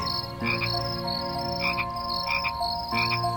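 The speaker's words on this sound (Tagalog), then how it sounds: "tanging ingay lamang ng mga kuliglig at palaka ang aming naririnig" Frogs croak at night in a loud, repeated pulsing chorus, with rhythmic calls overlapping against a steady background of crickets.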